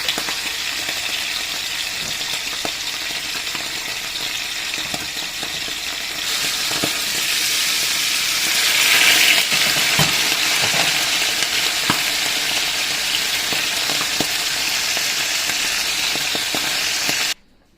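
Continuous loud sizzling and crackling of fish frying in hot oil, with occasional pops and light clinks, no voices.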